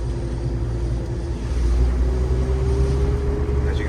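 A 1978 Chevy G20 van cruising down the road, its steady low engine drone and road rumble holding constant from near inside the cab, with no voices.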